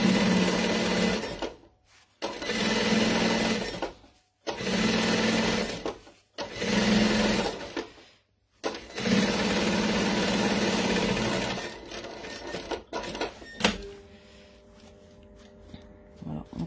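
A domestic sewing machine stitching edge to edge around a fabric pouch runs in several loud, steady bursts separated by short pauses, ending with quieter handling clicks and a brief tone.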